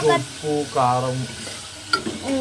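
Chicken pieces frying in a pot for homemade haleem, a close, steady sizzle with bursts of stirring and clatter running through the whole stretch, no voices over it.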